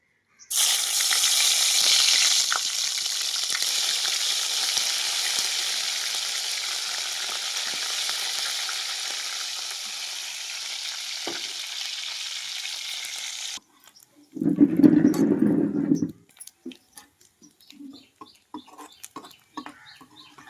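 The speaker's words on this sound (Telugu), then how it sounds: "రొయ్యలు అయితే అండి మనకి ఇలా ఎర్రగా వేగితేనే రొయ్యలు అనేది బాగుంటుంది" Prawns sizzling and frying in hot oil in a home kitchen, a loud steady crackle lasting most of the stretch, then cutting off, followed by a brief low thud and faint scattered clicks.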